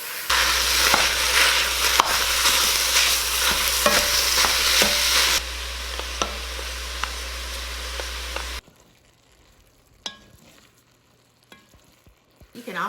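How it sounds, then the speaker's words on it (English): Ground meat sizzles loudly in a frying pan for a soup while a meat masher breaks it up with repeated scraping, stirring strokes, then the sizzle drops to a quieter level with a few clinks near the end. "I have my meat masher"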